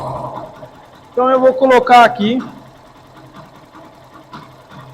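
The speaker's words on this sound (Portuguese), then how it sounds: "nós vamos ligar a moto novamente" A Yamaha Factor 150 motorcycle with a noisy, faulty engine idles steadily at low volume, a low, even hum running under a man's speech throughout.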